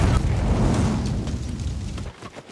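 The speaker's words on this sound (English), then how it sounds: "Things exploding" A big explosion in an action movie scene, a deep sustained rumbling blast that roars loudly and then fades away over a couple of seconds.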